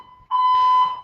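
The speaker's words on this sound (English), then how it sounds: "2022, another fire alarm." An apartment fire alarm sounds as a loud, steady electronic tone that begins faintly, then swells to full strength and holds without pause, with no voices.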